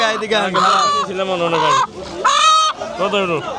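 Roosters and chickens at a village market on a riverside char, giving loud, close, repeated drawn-out crowing and clucking calls that overlap one another with only short pauses.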